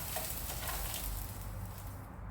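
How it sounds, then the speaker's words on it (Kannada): Peppercorns, Kashmiri chillies and ajwain dry-roasting in a pan give a soft, continuous crackle and rustle as they are stirred, steady and fairly faint, with no talking. "ನೋಡಿ ಇಲ್ಲಿ ನಾನು ಇದನ್ನು ಸ್ವಲ್ಪ ಫ್ರೈ ಮಾಡ್ತಾ ಇದ್ದೇನೆ"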